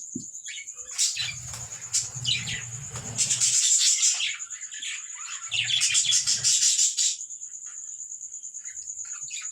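Budgerigars in a breeding colony chirp and chatter in overlapping bursts over a constant high insect-like trill, fairly close, with no talking.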